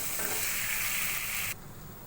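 Rohu fish head and spinach frying in oil in a pan, a steady close sizzle that cuts off sharply after about a second and a half, leaving a quieter hiss.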